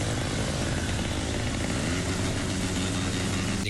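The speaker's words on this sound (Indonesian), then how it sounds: "Dengan menggunakan knalpot brong, mereka berputar-putar sekitar alun-alun sehingga mengganggu pengguna jalan lainnya." Motorcycles fitted with loud aftermarket brong exhausts circling a town square, a dense continuous engine roar and rumble filling the whole stretch without pause or talking.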